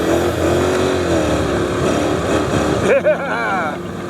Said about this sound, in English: I love that wheel spin, that's always great. Gotta get that tire loose, gotta get it spinning.